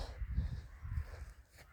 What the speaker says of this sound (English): it's just crows, it's all good.